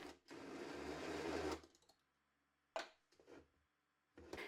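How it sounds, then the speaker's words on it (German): An electric mixer whirs through shortcrust pastry dough in a long burst, stops, then runs in several shorter pulses with pauses between them. "Alles wird gemixt, wobei man zwischendurch immer mal wieder absetzt"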